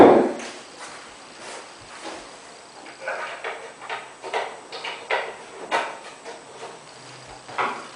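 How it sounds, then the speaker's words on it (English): A series of sharp taps, roughly one every half second, builds after a quiet start, like a hammer lightly striking metal hinge pins nearby. "I have to use a hammer to tap them in"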